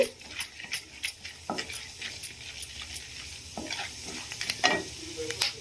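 Peanuts and chana dal frying in oil: a crackling sizzle punctuated by quick, rhythmic stirring scrapes and light rattles of the pan, close and steady throughout.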